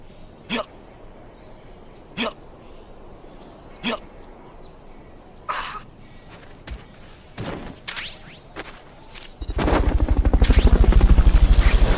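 Helicopter in Metal Gear Solid: Peace Walker, a loud rotor drone swelling in near the end after several sharp isolated thumps and sparse game sounds.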